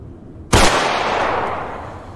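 A single loud gunshot in the video game DayZ cracks sharply and rings out into a long decaying echo, with near silence before it.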